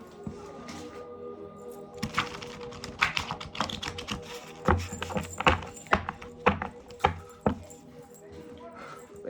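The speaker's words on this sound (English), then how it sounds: "Let me shuffle." Tarot cards shuffled by hand in a series of quick riffling and tapping bursts, close and fairly loud, with clicks and slaps growing sharper toward the end; no talking.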